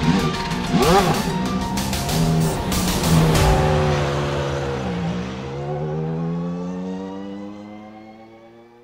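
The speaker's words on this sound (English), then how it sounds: "He's going to pull up side by side with the leader. It's going to be a drag race to the finish." Classic Lotus Formula One cars racing side by side in the iRacing sim at Monza, engines screaming loudly at high revs through upshifts, then one droning pass fading away into a fainter whine.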